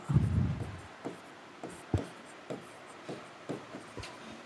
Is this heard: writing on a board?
yes